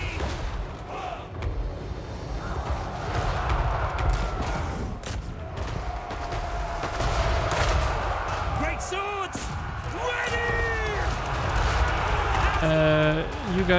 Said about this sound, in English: There's some nice shooting there, my friends.